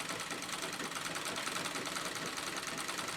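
A sewing machine quilting white denim runs in a steady, continuous whir with a fine rapid stitching texture, moderately quiet and without a break.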